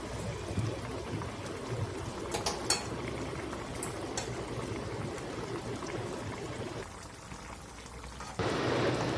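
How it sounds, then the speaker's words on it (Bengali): Fish slipped into a pot of boiling water for a Bengali fish curry, with a steady bubbling roar, a few sharp metallic clinks of utensils against the pot, and a louder surge of sizzle near the end. "এবার মাছগুলো দিয়ে দেবো।"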